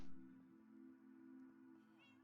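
A Minecraft cat gives a single clear, drawn-out meow, quiet and steady, with a faint rising chirp at the very end.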